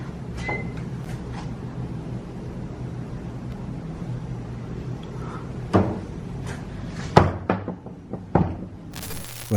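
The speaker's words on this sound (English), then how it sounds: "one of the doors opens spontaneously" A basement door opens by itself with scattered creaks and knocks, quiet ambient room noise underneath and a few sharper thuds toward the end, no one speaking.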